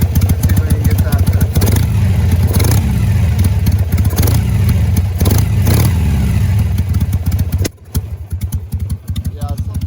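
A carbureted 2004 Harley-Davidson Sportster motorcycle engine runs loud and close with a rough, lumpy idle and several revs, then cuts off abruptly and leaves quieter background noise.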